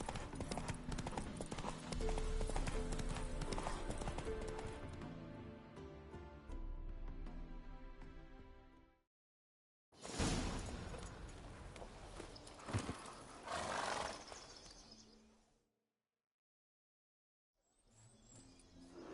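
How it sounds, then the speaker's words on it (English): Horse hooves in The Witcher 3: Hearts of Stone clip-clop in a steady walking rhythm, loud and close, cutting out briefly before resuming, with faint background sounds. "Spooking my horse."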